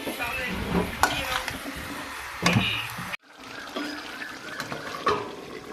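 Chicken is stirred through masala in a frying pan, making soft wet sizzling and a few scraping knocks. The sound briefly cuts out midway, and someone speaks intermittently.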